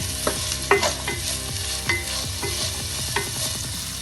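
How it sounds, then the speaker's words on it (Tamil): Onions sauté in hot oil with a little salt in a pan, sizzling steadily while a spoon stirs and scrapes in occasional clear strokes nearby. "அதுல இந்த வெங்காயத்தை போட்டு நல்லா வதக்கிக்கலாம்"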